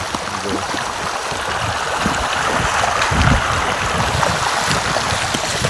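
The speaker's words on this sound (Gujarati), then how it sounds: "આ રસ્તામાં પાણી આવે છે" Steady rushing of rainwater flowing across a road, a continuous broad wash with low gurgling churn, fairly close and without voices.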